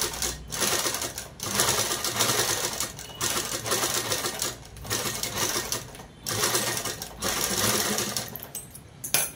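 A sewing machine stitches gathered saree fabric into a dress in bursts of rapid mechanical whirring, separated by short pauses, loud and close.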